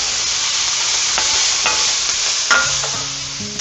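Onions sweat and sizzle in a pan for a hearty beef stew, a loud, steady frying hiss with a few light stirring scrapes and a faint tonal hum near the end; no voices.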